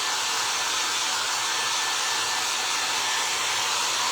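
A hair dryer blows continuously and loudly at close range over a glued cardboard craft project, a steady airy whine with no pauses or voices.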